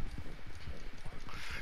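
Horse hooves clip-clopping at a quick, galloping rhythm in a multiplayer horse race video game, steady and close throughout, with a voice talking over them.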